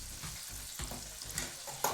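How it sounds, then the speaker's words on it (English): Chicken pieces deep frying in hot oil with butter and bourbon in the pan, giving a steady close sizzle and crackle with a few louder pops, no voices. "when you put your chicken in, this is effectively deep frying it"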